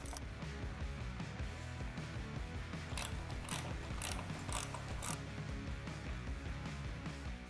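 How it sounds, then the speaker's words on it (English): A 5/16 socket ratchet backs out the bottom clamp screws on Harley Street Glide handlebars, a close, steady run of mechanical ratcheting clicks with a few sharper bursts partway through, alone without talk. "Now I'll go ahead and remove both bottom screws."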